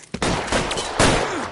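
Loud bursts of gunfire from the video game L.A. Noire during a police shootout, with sharp broadband cracks at the start, mid-clip and near one second, crowding into a dense fusillade.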